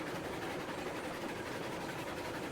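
Narrow gauge steam train in the Railroads Online game, a steady dense rumble of engine and rolling wagons with faint clickety-clack, continuous and fairly near with no talk.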